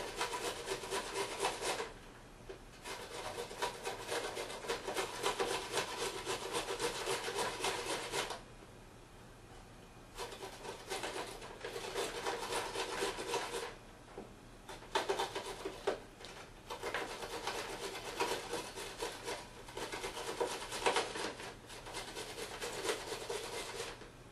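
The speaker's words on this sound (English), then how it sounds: "You always want to be careful when you're grating so that you don't nick your finger." Carrots are grated on a hand grater in a kitchen, giving a steady, close rasping scrape in long runs broken by short pauses. No one speaks.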